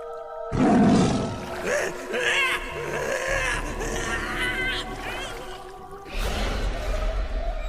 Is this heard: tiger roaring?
yes